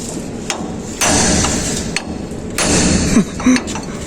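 Repeated hammer strikes, loud and close, landing in an irregular rhythm with a few sharp metallic knocks.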